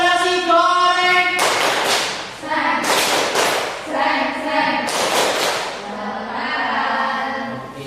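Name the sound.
class doing the 'tepuk nasi goreng' clapping routine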